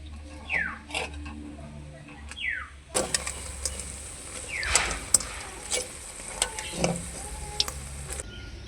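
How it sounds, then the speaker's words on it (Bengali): Bok flower fritters frying in hot oil, a steady sizzle with scattered sharp crackles and utensil taps at close range, brief voice-like sounds early on. "উল্টে পাল্টে বকফুলের বড়াগুলোকে ভেজে নিলাম"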